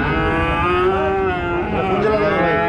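A cow at a busy livestock market gives a long, loud, close moo that wavers in pitch, with faint crowd noise beneath.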